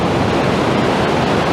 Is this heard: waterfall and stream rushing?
yes